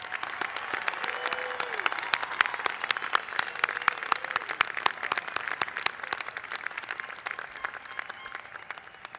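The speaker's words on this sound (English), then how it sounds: "Let's have one rousing last applause for our new graduates." Sustained applause fills a commencement ceremony as the crowd honors new graduates, dense steady clapping from many hands running evenly throughout with no speech.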